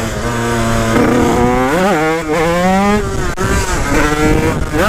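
A moped with an 86 Top Alu block revs hard close up, its engine note climbing and falling in sweeping pitch bends, loud and continuous with no talk over it.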